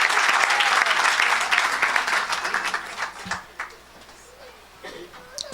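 A church congregation applauding loudly during a charismatic worship service, dense continuous clapping that gradually thins out and fades, with scattered voices and a few late claps toward the end.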